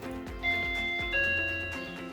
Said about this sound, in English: You should hear a doorbell sound coming from the OSI Mini Hub